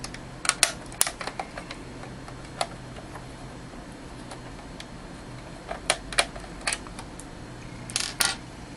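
Small screws being removed from a cassette shell with a screwdriver: scattered light ticks and clicks, close up, with brief clusters of rattling taps against a quiet background.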